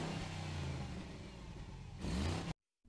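A car engine revs steadily with a whirring drone, surges louder for a moment, then cuts abruptly to silence.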